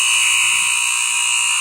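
Loud end-of-period buzzer at a hockey game, a continuous harsh electronic tone holding steady at full volume throughout, with no voices over it.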